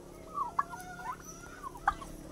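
Native turkeys on a farm gobble in two loud, sharp bursts with softer warbling calls between them, close by, with no one talking.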